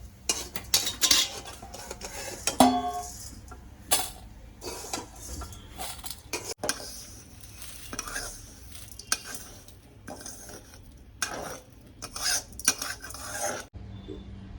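Vermicelli dry-roasting in a pan over a low flame, stirred with a utensil that scrapes and clinks against the metal in irregular strokes, with a faint sizzle underneath and no voices.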